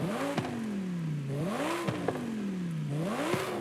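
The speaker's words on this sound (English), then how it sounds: "So this is a V10." A V10 engine in a BMW M3 in Forza Horizon 5 revs up and falls back in repeated swells, three climbing whines that rise and drop with a race-car edge, close and alone with no talking.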